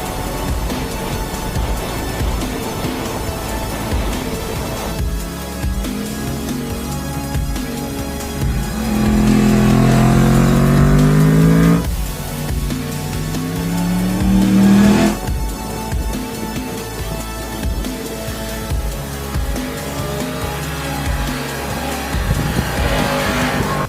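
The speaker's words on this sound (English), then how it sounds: "cool cross-plane crank motor noise" Yamaha MT-10 motorcycle with a cross-plane crank engine under way: a loud, gruff exhaust note that climbs in pitch through two hard pulls, dropping back between them as the gears change.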